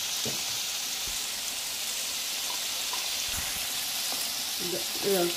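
Crushed garlic, chili and cumin sizzle in hot oil with softened carrots, a steady broadband frying hiss with a few faint stirring clinks, moderately quiet and continuous.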